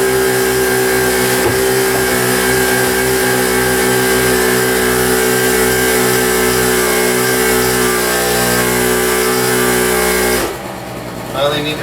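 A small portable generator runs at a homemade tiny-house build site, giving a loud, close, steady humming engine drone with a pulsing low throb that cuts out near the end.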